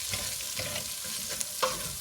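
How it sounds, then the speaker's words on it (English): Onions sweat in a pan for a Bolognese sauce, giving a steady soft sizzle with a few light stirring scrapes. No one speaks over it. "just give those a few moments to cook and sweat down"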